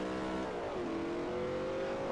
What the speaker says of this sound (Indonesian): Hancur dah ini mobil BMW.